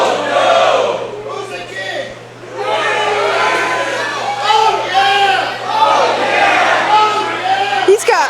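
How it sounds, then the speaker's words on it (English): A wrestling crowd at a Texas Kingdom event splits into mixed shouting and cheering, a dense roar of many voices rising and falling throughout with no clear speech standing out. "A bit of a split crowd when he asked who the king was"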